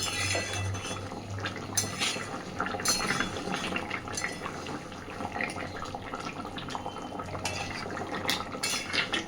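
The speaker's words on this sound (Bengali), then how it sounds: "খুব ভালোভাবে মিশিয়ে দিচ্ছি সব কিছুকে।" Rohu fish kalia being mixed in a pan: a spatula scrapes and clinks against the metal at an uneven rhythm over a low steady hum, close and moderately loud, with no voices.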